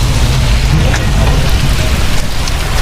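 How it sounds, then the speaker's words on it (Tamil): Steady rain falling in Chennai in a constant broadband hiss with a heavy low rumble underneath, close and continuous, no voices. "மழை பெய்யுது கொஞ்சம்."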